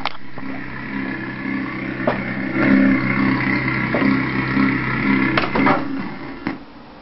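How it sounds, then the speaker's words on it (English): A manual car engine idles and labors with a low rumble as first gear is engaged without the clutch, surging briefly, then sputters and stalls near the end. "Listen carefully to the sound of the engine as I put it into first gear without holding down the clutch."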